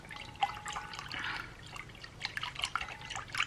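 Colour is stirred into melted wax for wax melts, making quiet, irregular liquid swishes and soft drips, faint and close with small clinks scattered through.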